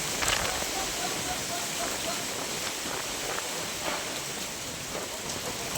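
Dense, steady rain pours down with gusty wind, a constant hiss broken by scattered louder patters; no voices stand out.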